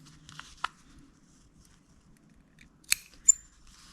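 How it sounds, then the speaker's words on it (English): Scissors make a couple of quick, quiet snips into the fabric corner of a sewn Waldorf-style Christmas elf doll, with soft handling rustles in between. "to release this fabric here when you turn it inside out, we just want to put a little snip"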